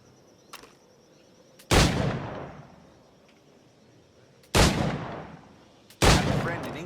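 Three loud, sharp firearm shots ring out at uneven intervals in the pirate-era game Assassin's Creed Black Flag, each with a booming crack and a long fading tail, the quiet between them broken only by faint background ambience.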